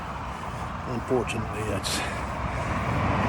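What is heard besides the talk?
traffic noise on a busy road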